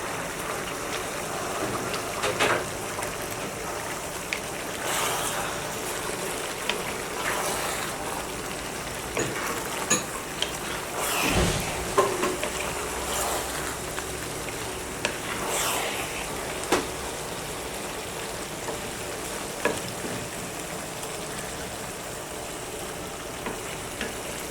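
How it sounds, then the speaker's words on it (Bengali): A spoon stirs chicken tehari in a pot, scraping and turning the rice over a steady sizzle of frying. Occasional louder scrapes stand out from the continuous hiss, and there is no talk. "নেড়ে চেড়ে দিব।"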